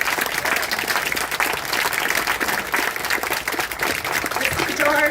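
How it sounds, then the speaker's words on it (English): Loud, sustained audience applause at a life celebration memorial gathering, dense clapping from a crowd continuing steadily without letup, with some voices mixed in toward the end. "give him a applause."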